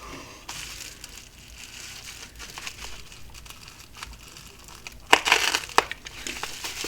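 Tape is peeled and crinkled off a mailed parcel holding a new wafer switch, soft rustling and crumpling with a louder ripping burst near the end, close up and without talk.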